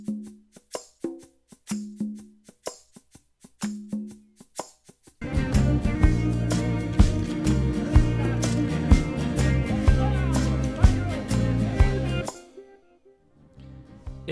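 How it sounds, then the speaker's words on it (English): Studio percussion kit playing on its own: sparse, clicky hand-percussion hits in a light repeating pattern for several seconds, then a dense, louder full passage kicks in before cutting to near silence. "This just uses the studio percussion kit, and on its own sounds like this."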